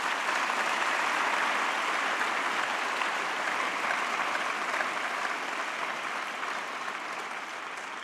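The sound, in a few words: audience applause at a festival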